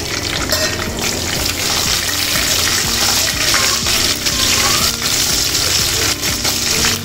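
Green chillies and spices fry loudly in hot oil for a boiled-egg gravy, a bright crackling sizzle with scattered pops and stirring clatter, steady and close, with no voices.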